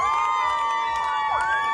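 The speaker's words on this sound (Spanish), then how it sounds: "Personas envueltas en banderas israelíes vitorearon, cantaron y con aplausos recibieron los convoys que transportaban los rehenes." Crowds wrapped in Israeli flags cheer and sing as convoys carrying released hostages arrive, a loud, sustained blend of voices with drawn-out tonal cheers and whoops.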